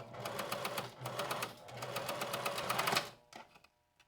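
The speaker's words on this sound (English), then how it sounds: "Line it up on your needle plate and, well, sew your box pleat." A sewing machine stitches a box pleat on a small doll's safari jacket, running in steady bursts of rapid needle strokes with short pauses between runs before trailing off near the end.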